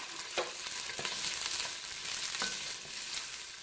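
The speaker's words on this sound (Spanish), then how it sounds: "Lo que vamos a hacer es que le voy a agregar la cebolla." Chopped onion sizzles and fries in a preheated pot for a rustic pipián, a steady bright crackling hiss with occasional sharper pops and stirring scrapes, close and continuous with no voices.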